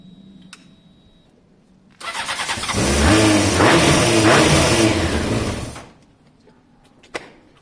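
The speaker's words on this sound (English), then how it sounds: "if I pull the choke up by hand and try and start it" A Honda CBR600F4i motorcycle with its choke pulled, low battery, cranks and catches at about two seconds. The engine runs loud and close for several seconds, then cuts out, followed by a single sharp knock.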